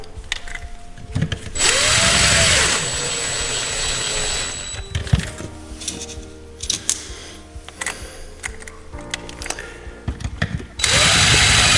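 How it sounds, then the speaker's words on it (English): A power driver runs in several bursts, its motor rising and falling in pitch, while driving the top motor mount screws on a Traxxas RC vehicle; handling clicks and rattles of parts fill the gaps between runs. "we can go ahead and put our top motor mount screws in as well"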